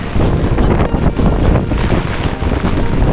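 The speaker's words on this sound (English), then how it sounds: "It's windy out" Heavy wind buffeting a microphone, a loud continuous rumbling roar with gusty surges and no voices.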